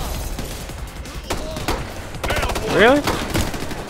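Gunfire and grenade launcher shots in the video game Ghost Recon Future Soldier: sharp rapid bursts and booming reports in an uneven rhythm, with a brief spoken voice over the combat.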